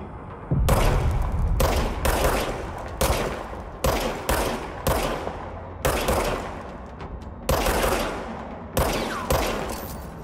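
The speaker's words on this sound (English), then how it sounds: "now I have a gun" Gunshots from a gun in the video game Control, fired in about eight loud, separate bursts with short gaps between them. No voices.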